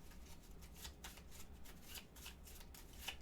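A deck of cards for the 18 Holes golf board game is shuffled during a solo tabletop session, giving repeated soft riffling bursts in a steady rhythm. The sound is quiet and close, with no talking.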